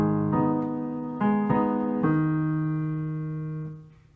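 Piano playing a short passage from a song, sustained chords struck at a few points and left to ring, loud and alone, fading at the end.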